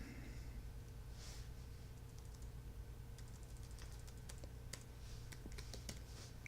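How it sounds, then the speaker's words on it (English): An address is typed on a computer keyboard: quiet, irregular key clicks in short bursts, faint and close, over a low steady room hum. "So I'll type in an address at 350 Main Street"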